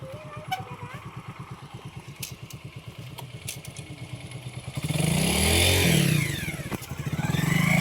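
A motorcycle engine chugs steadily nearby, then surges into a louder, rising rev as the bike pulls away along a riverside road lined with ghats and temples.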